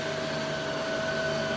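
A stick handheld vacuum cleaner runs continuously with a steady, whining motor hum and airy suction, close and even for the whole clip.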